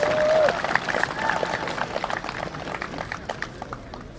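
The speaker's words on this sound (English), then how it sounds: "shall we welcome him with a huge round of applause" A crowd applauds to welcome an arriving guest at an outdoor cultural festival event, a dense wash of clapping that starts loud and thins slightly over four seconds, with murmuring voices underneath.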